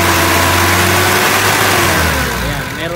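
A gasoline car engine with a distributor that fails to advance timing is revved from idle, its tone rising and falling unevenly as it seems to choke, close and loud with a voice speaking over it.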